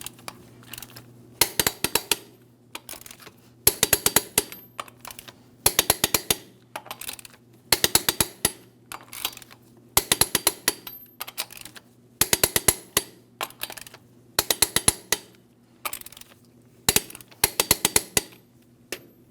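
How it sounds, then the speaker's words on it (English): A torque wrench clicking as it tightens the lug nuts on a GMC Sierra 2500 HD front wheel: repeated bursts of ratcheting clicks in even groups separated by short pauses, close and clear, with no talk. "Let's go ahead and torque each of these lug nuts to 140 foot-pounds in a crisscross manner"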